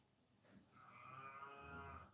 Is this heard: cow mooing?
yes